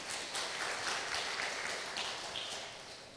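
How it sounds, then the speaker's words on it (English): A crowd applauds a reported 35% growth result with a continuous, moderately loud patter of many hands that stays steady throughout. "Please clap for that also."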